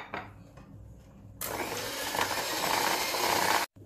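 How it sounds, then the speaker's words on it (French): An electric mixer beats butter, sugar and eggs for corn bread batter, starting with a few faint clinks and then whirring in a loud, steady rush that cuts off abruptly at the end. "Une fois que mon beurre est bien lisse, je viens ajouter les œufs et je vais continuer à les battre."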